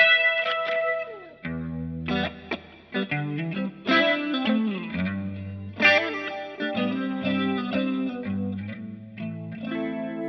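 Electric guitar on a clean tone with delay and distortion switched off, picking single notes and slides from a solo; notes ring out one after another with a faint chorus-like shimmer, close and alone.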